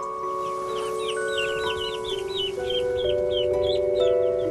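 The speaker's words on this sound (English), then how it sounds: "We've got a nice little clutch of both chickens and ducks." Chickens and young ducks on a Victorian-style farm in spring give off repeated short chirps and soft clucks in a busy, steady chorus, close by over background noise and some sustained tonal hum.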